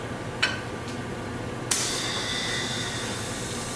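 An air compressor in a garage where LS1 LS6 valve springs are fitted to Vortec heads starts with a sudden hissing burst and keeps running steadily with a whining tone, following a couple of earlier sharp clicks.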